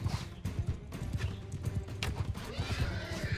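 Horse in Mount & Blade 2: Bannerlord galloping with rapid, close hoof clops, punctuated by neighs and clashing battle noise.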